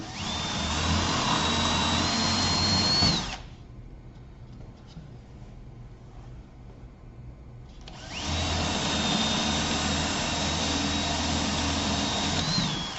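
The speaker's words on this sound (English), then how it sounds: "And I'm drilling slightly uphill into the seed chamber so that the seeds would follow it down through." A power drill whines at high speed boring into a bird feeder's seed chamber, stops for a few seconds of quiet, then runs again steadily.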